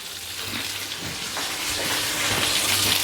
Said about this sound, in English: So while that's just searing off and getting a nice colour